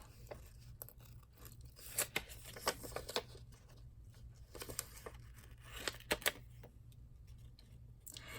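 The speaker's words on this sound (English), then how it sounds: "trimming all these little things out, fussy cutting" Small scissors snip paper embellishments in fussy cutting, giving quiet, irregular crisp snips and rustles of paper close to the microphone over a faint steady hum.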